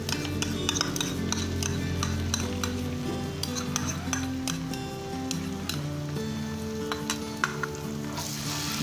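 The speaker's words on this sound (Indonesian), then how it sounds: "Kita aduk lagi" Softened onions and barbecue sauce sizzling in a hot pan, stirred with a utensil that clinks and scrapes against the metal in an irregular rhythm, a steady loud fry beneath.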